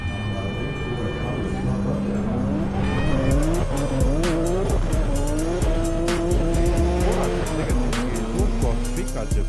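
Drift car tires squeal long and loud at the Mulgi Drift competition as a racing engine revs and bounces off the limiter, with sharp crackles and pops from the car through the run.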